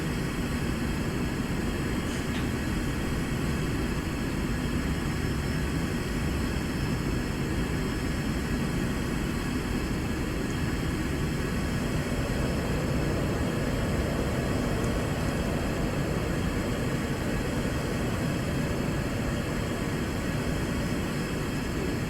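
A SEPECAT Jaguar jet flying low level in Microsoft Flight Simulator, giving a steady, loud, broadband engine roar and rush of air that stays constant throughout, with no talking.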